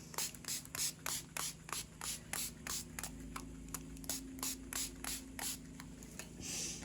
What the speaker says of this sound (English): Now we're just spraying a little bit of different color on it.